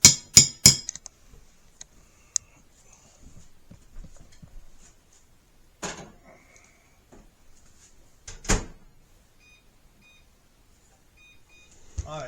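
A baking dish of apples goes back into the oven: sharp clinks and knocks at the start, then sparse rattles and two louder oven-door clunks separated by quiet stretches.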